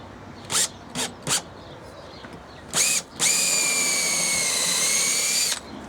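A power drill bores a starter hole, then an 8mm hole, into stainless steel for a gate handle: a few short bursts, a brief pause, then one sustained steady whine lasting over two seconds, close and loud, with no talk.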